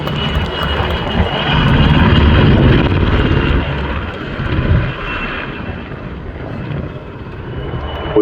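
A pair of Czech Air Force PZL W-3A Sokol helicopters from the 243rd Helicopter Squadron flying at an air show, a loud, steady engine and rotor roar that swells around the middle and then eases slightly.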